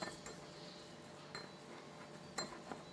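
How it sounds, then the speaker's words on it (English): A spoon stirs lemon juice into a honey and brown sugar face scrub in a bowl, making quiet, intermittent clinks and scrapes against the container. "and then I'll be adding my lemon juice. And I'm going to be stirring it in."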